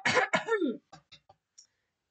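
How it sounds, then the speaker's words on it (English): A person coughs close to the microphone: two harsh, loud coughs, then several short, softer throat-clearing coughs that fade out, with silence between them. "I've already emptied my glass of water because I've been coughing so much."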